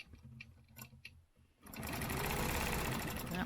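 After a quiet pause with a few faint clicks, a sewing machine starts stitching a stencil quilt, its fast, loud, steady rattle running continuously to the end.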